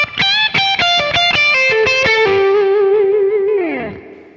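An overdriven electric guitar plays a blues lick, a fast stream of picked notes settling into a long sustained tone that bends and slides downward, up close with no voices.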